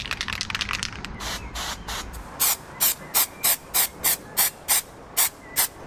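A brown rust-effect spray paint can hisses out about a dozen short, evenly spaced bursts, close and crisp, following a longer faint spray at the start; no one speaks.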